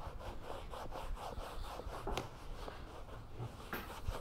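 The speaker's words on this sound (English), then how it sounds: "Buff it all in good." A cloth buffing conditioner into a leather saddle, making soft, steady rubbing strokes that are faint and close, with no talk.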